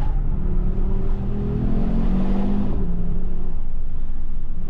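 An Audi with stability control switched off accelerates hard, its engine roaring loud and close throughout while a rising tonal strain suggests tires scrabbling for grip, easing slightly near the end.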